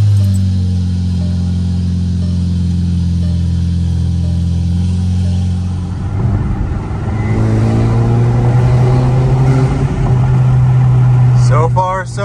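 Lowered, tuned VW Passat on new 19-inch wheels driving on a test run, a steady engine and road drone that shifts as it accelerates midway, with someone talking over it.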